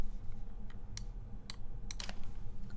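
Modded Geonworks F2-84 mechanical keyboard being typed on, a few sparse, crisp keystroke clacks spaced irregularly over a low steady background hum, moderately close and fairly quiet.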